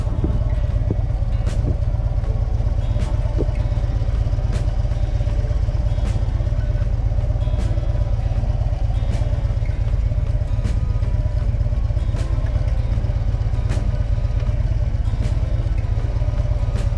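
A Harley-Davidson Switchback motorcycle is ridden through Maidencreek Township near Fleetwood, heading to a community park. Its engine drones in a steady, close, continuous rumble with faint clattering, and no one speaks.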